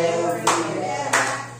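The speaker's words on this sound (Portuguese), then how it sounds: "Pode bater palmas alegres, igreja." A church congregation clapping hands, two distinct bursts of claps standing out over a sustained musical tone, close and fairly loud, with no speech.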